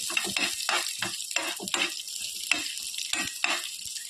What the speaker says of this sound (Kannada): ಇದನ್ನೆಲ್ಲ ಸ್ವಲ್ಪ ನಸು ಬಣ್ಣ ಬಂದು ಬರುವವರೆಗೆ ಹುರಿಬೇಕು